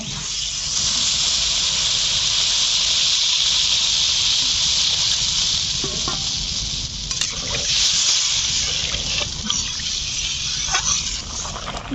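Water goes into a hot pan of potato and spice curry, setting off a loud, steady hissing sizzle that holds throughout, broken by a few faint clinks of a utensil.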